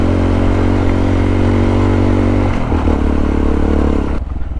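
A scooter rides over a rough, dusty road, its engine buzzing loud and close with rattling clatter and scraping from the uneven surface, the sound shifting midway before easing off near the end.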